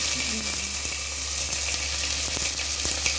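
Pork adobo ingredients sizzle in a hot frying pan, a steady broadband frying hiss that stays loud and even for the whole stretch, with a few faint scrapes and no voices.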